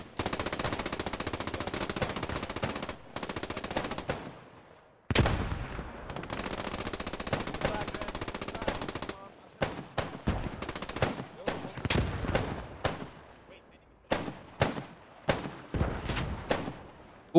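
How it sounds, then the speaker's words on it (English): Machine gun fire in the World War II video game Post Scriptum, an MG suppressing through a tree line: long sustained bursts, then shorter staccato volleys of sharp, loud reports with brief pauses between. "Resolution also here with his MG just suppressing through the trees"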